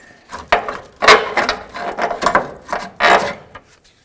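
Ford Expedition upper control arm: a series of short clicking and grating bursts, like a ratchet working a nut loose, sounding in uneven spurts and close to the listener.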